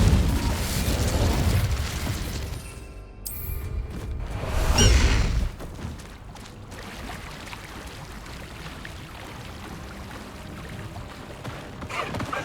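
A fiery Incendio spell blast in the Hogwarts Legacy video game erupts as a loud, rushing burst over rumbling game ambience, then fades into quieter background noise.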